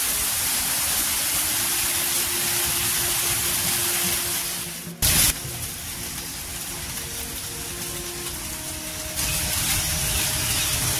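Rain falls on a green rural retreat near Kolkata as a steady, even hiss with a brief louder burst midway.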